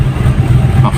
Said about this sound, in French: On revient en régime de ralenti.